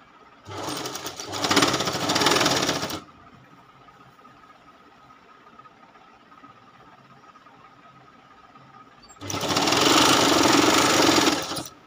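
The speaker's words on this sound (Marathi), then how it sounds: "पहिली जिथं टीप मारली होती आपण त्याच्यावरच टीप मारत आहोत" Sewing machine stitching a folded border strip onto a quilt made from old saris, two loud rapid mechanical bursts separated by a quiet pause.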